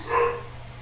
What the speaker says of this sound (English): Now what's she barking at?